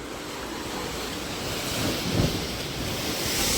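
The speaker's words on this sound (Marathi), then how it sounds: "पाणी इथं बघ धडकते" Sea waves crashing against the rocks below Sindhudurg fort, a continuous roar of surf with wind buffeting the microphone and a swell near the middle.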